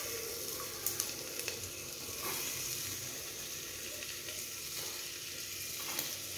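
Vegetables with ginger and garlic fry gently in a pan for tomato soup, a soft, low sizzle with occasional faint clicks of stirring, quiet and free of talk.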